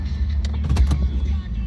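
A 2002 Pontiac Trans Am Firehawk with an SLP exhaust idles steadily close by, a deep low rumble under a few faint clicks and knocks.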